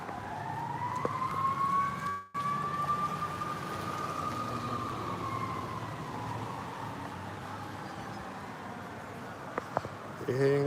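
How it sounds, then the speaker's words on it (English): A fire truck siren wails steadily throughout at moderate distance, its tone sweeping slowly up and down over continuous traffic noise, with a brief dropout near the start and a short honk near the end. "The fire truck siren right now."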